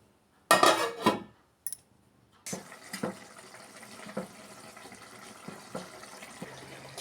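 Water poured into a curry pot and stirred: a brief loud splash of pouring, then a metal spoon scraping and clinking against the pot in irregular strokes, close and fairly quiet.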